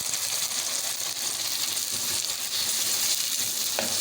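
Onion, ginger, garlic and tomato frying for karahi qeema give a steady, close sizzle throughout, with faint stirring.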